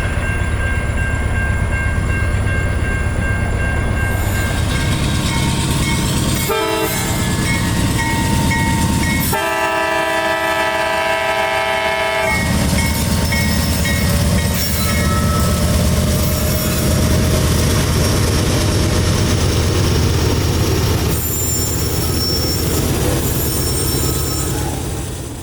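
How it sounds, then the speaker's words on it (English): A CSX freight train loaded with wet rock departs Port Manatee, its loud steady rumble and wheel noise dominating throughout, with a sustained horn blast partway through and squealing metallic tones. "B307 now departs Port Manatee stacked with wet rock bound north for Bartow and the Ridgewood chemical plant."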